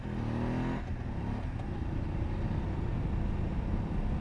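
BMW F850GS motorcycle pulling hard in fourth gear, a loud, steady engine drone with a shift in tone early on, continuous and close with rushing wind, no talking.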